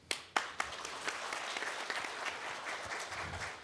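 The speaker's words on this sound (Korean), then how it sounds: "대표하셔서 이게타 다케쿠니 부지사님을 다시 박수로 맞이해 주십시오." Applause from the audience at a Korea–China–Japan local diplomacy leadership forum session, rising in a few sharp early claps into a steady wash of clapping from a large hall that holds evenly to the end.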